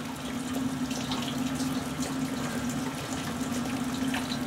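Maple sap rushes fast through a 45 tubing line in a sugar bush, a continuous close gurgling, splashing flow with a steady low hum underneath.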